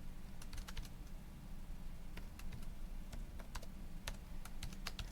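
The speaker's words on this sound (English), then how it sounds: "we can type this whole one in" Scattered key presses on a calculator or computer keyboard as a long math expression full of parentheses is entered, crisp clicks in irregular bursts over a steady low room hum, with no talking.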